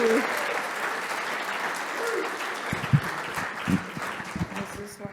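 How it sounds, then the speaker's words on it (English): Audience applause fills a talk venue for speaker Linda Robinson, a steady wash of many hands clapping throughout, with a voice speaking over it near the end. "a round of applause for Linda Robinson"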